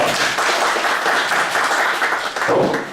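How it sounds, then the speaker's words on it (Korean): An audience at a Palgongsan environmental culture lecture applauds to welcome the lecturer, a dense, even burst of many hands clapping close by for about three seconds. "큰 박수 부탁드리겠습니다"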